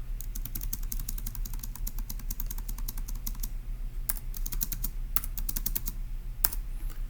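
Steady, rapid clicking of keys on a computer keyboard, close and continuous over a low electrical hum, with a few louder keystrokes standing out and no talking.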